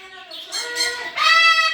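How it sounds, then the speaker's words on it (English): Pet birds chirping noisily indoors, a dense run of loud, high tweets and calls that swells and continues throughout, near and busy. "Are you telling everybody that it's loud in here? Okay, be quiet, noisy birds, right?"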